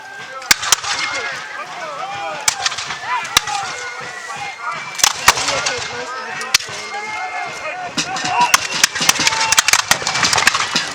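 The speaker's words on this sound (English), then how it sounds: "Another cannon retort, this one from the British side going back to the American lines" Cannon and musket fire crack out at an 1812 battle reenactment at Fort George, sharp irregular bangs of varying loudness scattered over crowd chatter and ambient talk.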